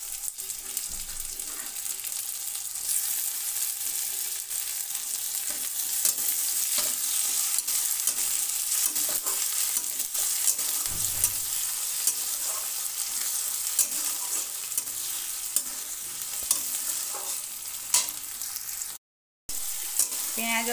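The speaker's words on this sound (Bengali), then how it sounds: "পেঁয়াজ ও টমেটো 3-4 মিনিট নেড়ে চেড়ে নিলাম, একটু কষিয়ে নিলাম" Chopped onions and tomatoes are stir-fried in a pan for a chicken patila curry, with a continuous soft sizzle and repeated spatula scrapes and stirring strokes, fairly quiet and unbroken apart from one brief dropout near the end.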